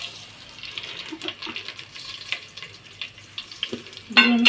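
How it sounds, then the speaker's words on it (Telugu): Whole biryani spices dropped into hot oil crackle and sizzle in a home kitchen, with scattered pops and a stir, then a sharp metallic clatter near the end. "ఇప్పుడు ఆయిల్ అయితే హీట్ ఎక్కిందండి బాగా. బిర్యానీ సామాన్లు వేసేసుకుందాం."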